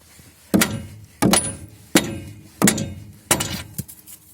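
Five gentle, evenly spaced metallic taps ring out close by as a part is knocked into place on an old Mercedes-Benz MB 100 camper van during repair work.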